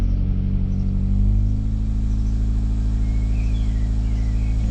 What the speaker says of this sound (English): the engine itself sounds fine, but it's just making these crack noises